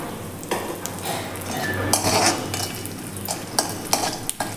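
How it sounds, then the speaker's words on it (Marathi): Charoli nuts and raisins frying in ghee in a pan over medium gas for rice kheer, a soft sizzle under repeated close spoon stirs and metal scrapes against the pan. "मीडियम गॅसवरती हे छान असं तांबूस रंगावरती आपण परतून घेऊयात"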